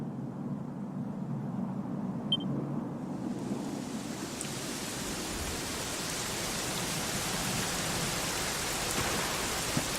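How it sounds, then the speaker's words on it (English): Steady rain falling in Dragon Quest 11, starting as a lighter patter under a low ambient hum and swelling after a few seconds into a dense, continuous wash of hiss, with no voices. "it was raining like this the last time I ever saw her"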